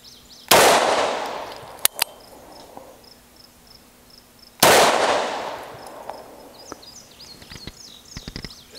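Two loud, close gunshots from a Bond Arms Rough and Rowdy derringer-style pistol in .410 / .45 Colt, fired about four seconds apart, each a sharp crack with a decaying outdoor echo, with insects chirping faintly between them.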